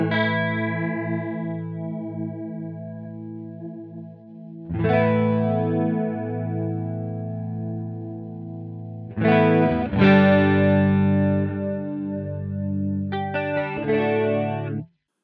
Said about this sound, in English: In the post effects, I'm going to put a chorus because I like a chorus.